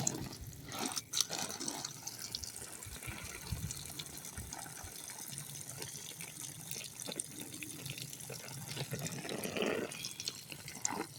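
Water runs steadily from a garden hose outdoors in a vegetable garden, a continuous soft splashing flow with a brief louder burst near the start and no talking.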